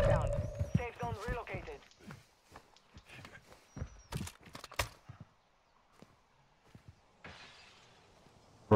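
Glass shatters in Call of Duty Warzone 2.0 as several sharp, bright breaking bursts land in quick succession. They follow a stretch of voices and footstep-like thuds, then scattered light debris sounds trail off afterward.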